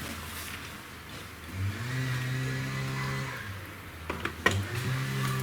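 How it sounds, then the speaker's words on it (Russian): A rebuilt VAZ 2102 engine, briefly started without its radiator, idles with a low steady hum and then revs, followed by several sharp clanks and knocks near the end. "Послушаем, как двигатель работает, и сразу заглушим."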